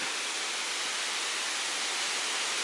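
A waterfall pours in a steady, broad roar of rushing water. It sounds close and even, with no voices heard.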